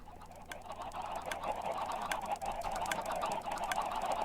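Video game chickens cluck in a pen, with repeated short squawks and honking calls over a steady background, a busy, fairly close flock with no talking.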